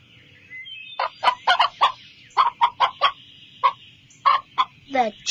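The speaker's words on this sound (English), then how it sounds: "The chicken." A fowl clucks repeatedly, a dozen or so short, sharp calls in an uneven rhythm over a steady low background hum.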